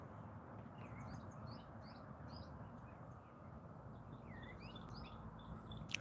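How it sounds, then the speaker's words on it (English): Faint, scattered bird chirps and short whistled calls sit above a steady low background rumble. "Finding some calm in listening to the birds"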